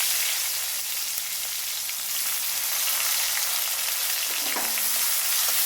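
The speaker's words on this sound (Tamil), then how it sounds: "பொரிஞ்ச உடனே நம்ம பெரிய வெங்காயத்தை சேர்த்துக்கலாம்." Sliced large onions frying with spice powder in a pan, a loud, steady, continuous sizzle with a brief stir near the end.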